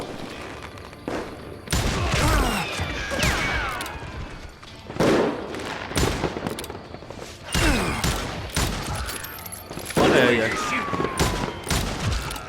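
Revolver gunfire in the Wild West shooter Call of Juarez Gunslinger, loud sharp shots arriving in separate bursts amid other game noise, with someone talking between them.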